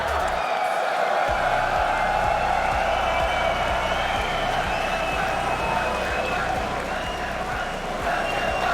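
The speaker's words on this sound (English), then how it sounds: "These guys are loud. Do you hear that?" At an esports tournament stage, a loud arena crowd claps and cheers in a dense, sustained roar with steady rhythmic thumping underneath, while voices speak over it.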